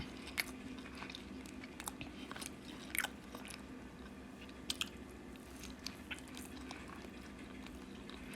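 Quiet close chewing of a hamburger and french fries, with soft irregular bites and crunches spread over a low background hiss, no talking.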